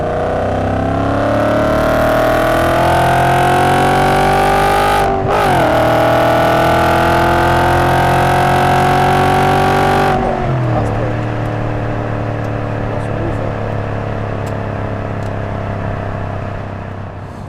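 Audi RS4 B7 Avant with a naturally aspirated engine pulling hard in sixth gear, a loud steady drone rising in pitch, briefly dipping near five seconds, then settling to a lower sustained cruise hum.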